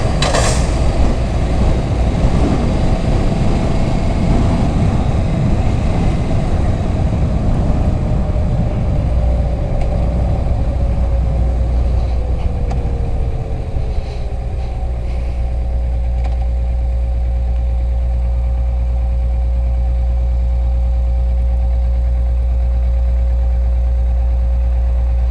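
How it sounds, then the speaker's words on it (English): A Kawasaki EN650 motorcycle running, its engine a loud, steady low drone under rushing air that settles into a smoother, even hum as the pitch gradually drops, close and continuous with no talking. "this bike, man, I'm telling y'all, it's riding really smooth"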